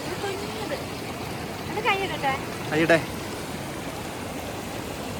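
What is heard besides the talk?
small waterfall stream flowing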